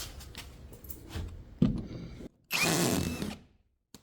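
A VEVOR auto-feed drywall screw gun runs in short bursts, whirring and ratcheting up close, then a loud sustained high spin, then a brief click after it stops.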